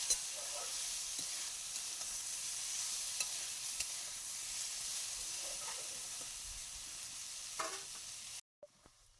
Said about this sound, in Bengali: এবার দিয়ে দিয়েছি সিদ্ধ করা কাঁঠাল বিচি। এবার ভালো করে নাড়াচাড়া করে নেব।